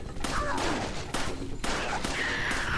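Punisher handgun fire in Resident Evil 4, a burst of loud, sharp game gunshots in quick succession with echoing tails, close and dense over a busy game background.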